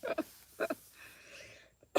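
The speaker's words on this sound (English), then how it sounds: "I am coughing like crazy now." Several harsh, raspy smoker's coughs come in short bursts, close and fairly quiet, with a wheezy breath between them.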